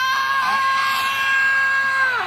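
A concert crowd lets out a sustained, loud scream with shouting, one continuous burst that rises and then drops away.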